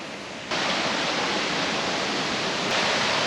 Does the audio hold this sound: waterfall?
yes